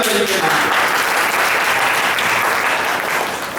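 Audience clapping at a religious cow-katha discourse held in a Durga temple, a dense, steady burst of applause filling the hall from start to finish with no voices over it.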